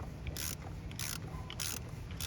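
Ratchet cranking down the oil drain bolt on a 2002 Pontiac Grand Am SE 2.2, four short bursts of rasping clicks in a steady back-and-forth rhythm, close and fairly loud, with no speech.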